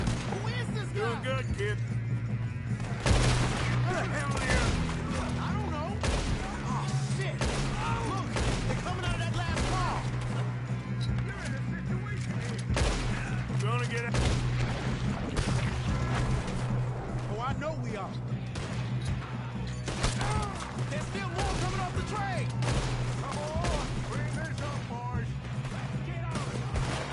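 Gunfire in the video game Red Dead Redemption 2, with repeated sharp shots cracking in irregular bursts throughout a loud firefight, under near-continuous shouted talk and game music.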